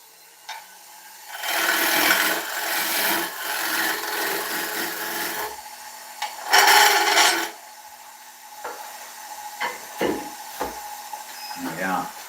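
Carbide woodturning tool cutting a British ash bowl on a lathe, giving bursts of dry rasping scrape at close range, then short sharp catches and scrapes as the tool is brought back in.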